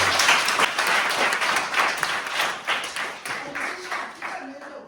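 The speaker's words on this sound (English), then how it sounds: "guys, clap hands for yourselves" A small crowd claps steadily for several seconds, a dense patter of hands that gradually thins out and fades near the end.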